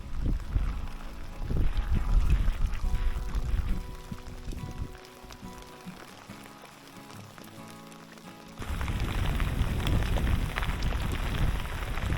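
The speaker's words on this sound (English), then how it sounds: "there is a slight amount of rain at the moment" Light rain patters steadily on water and surroundings during fly fishing near Ullapool in the Scottish Highlands, a continuous soft hiss that thins midway and then returns louder, heard alone without speech.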